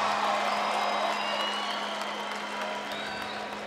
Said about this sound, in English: Let's give both of our fighters a big round of applause